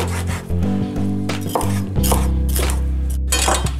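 A knife coarsely chops a bell pepper on a home kitchen board, giving a few close, dull knocks and scrapes over a low steady hum.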